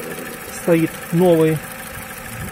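An Opel Corsa D engine, with a new radiator, spark plugs and head gasket at about 100,000 km, runs with a steady low idle hum while someone talks briefly over it.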